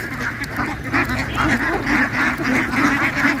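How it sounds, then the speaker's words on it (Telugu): Hundreds of ducks gathered in a huge flock in the evening quack continuously, a dense overlapping chorus of calls in rising and falling bursts, close and loud with no talk. "బాతులు చూడండి వందల వేలలో ఉన్నాయి"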